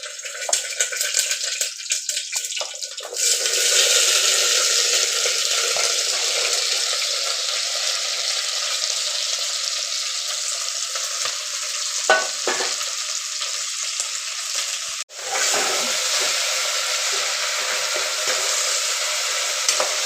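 Okra frying in oil gives a steady, bright sizzle that runs nearly the whole time, with a brief stir or clatter midway and a short break before the sizzle resumes.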